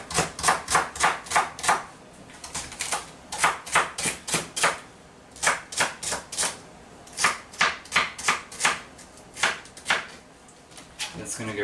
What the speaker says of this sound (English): So I'm dicing up some celery here,